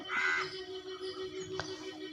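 A crow gives one loud caw and then a second shorter call while being fed biscuits outdoors in the morning. The calls come over a low steady hum with no talking.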